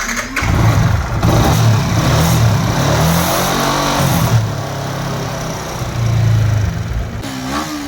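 A Yamaha R15 V3 motorcycle engine idles and revs after a tappet adjustment, a loud, close, steady mechanical drone with a few swells in revs and a brief drop before picking up again.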